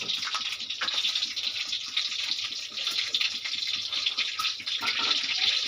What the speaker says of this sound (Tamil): கடுகு பொரியுதுங்க.